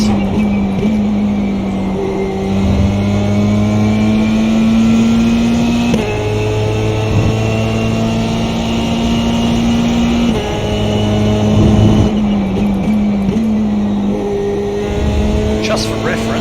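A Formula 3 race car engine in the iRacing sim drones steadily, its pitch climbing and then dropping sharply at gear changes around a lap, loud and continuous throughout.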